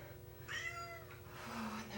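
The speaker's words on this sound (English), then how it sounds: "Oh, there's my cat." A house cat meows indoors in the middle of a home workout, a drawn-out mid-pitched call followed by a second shorter meow, fairly close over steady room noise.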